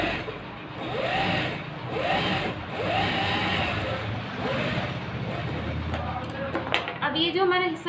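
A sewing machine stitches a belt onto a blouse with a steady whirring hum while someone talks over it throughout.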